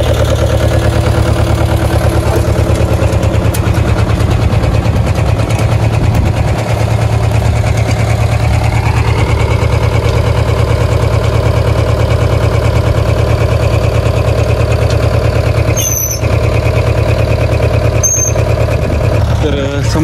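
A farm tractor engine idles while a hoe implement is hitched to it, a loud, steady, close low drone lasting the whole stretch, with a voice speaking over it.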